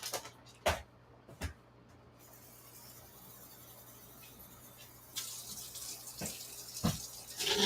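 Tap water runs steadily into a pan for a half-cup batch of oatmeal, a soft continuous hiss broken by a few sharp clanks, with the flow growing louder and splashier near the end.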